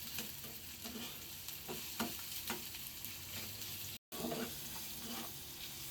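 Sliced onion and green chillies fry together in a pan, making a soft, fairly quiet sizzle with regular stirring scrapes. The sound cuts out for a moment partway through, and nobody speaks.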